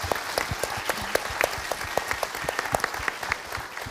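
Brief burst of clapping at a Swedish film interview event, congratulating the film's producer; individual sharp claps stand out distinctly over about four seconds, suggesting a small group close by.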